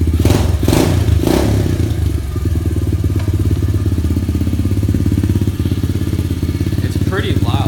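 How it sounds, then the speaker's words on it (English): A 2016 SSR 125cc pit bike kick-starts on the first try with a few heavy thumps, then settles into a loud, close, steady engine drone with some revving. "So I'm just gonna start it up quickly, give you guys a good view on it. It starts up first kick."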